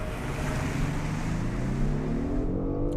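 A 2025 Genesis G80 accelerating hard from a launch control start, a loud steady engine roar with rising tones as it pulls away, heard from inside under heavy wind-like rush.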